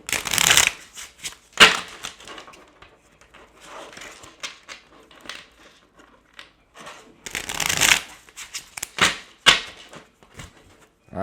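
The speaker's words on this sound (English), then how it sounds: "I'm gonna shuffle them again" Tarot cards shuffled by hand in repeated bursts of riffling and shuffling, close and fairly loud, with quiet pauses between bursts and no talking.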